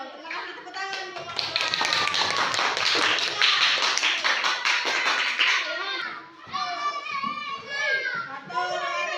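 Children clap their hands together in a classroom, a dense burst of applause lasting several seconds before fading into lively kids' chatter and a teacher's voice.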